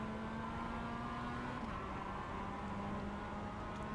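Race car engines in the iRacing video game drone steadily with a sustained buzzing tone that shifts slightly in pitch, faint and continuous with no talk.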